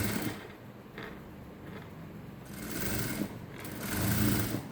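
A sewing machine stitches a peplum top, its close, steady mechanical whirring running through the whole stretch with slight swells, no voices heard.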